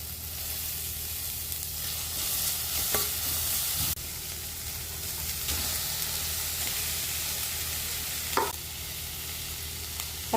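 Basmati rice is tossed with vegetable masala in a hot pan for Schezwan fried rice. A steady sizzle runs throughout, broken by occasional scraping and clinking from the spatula.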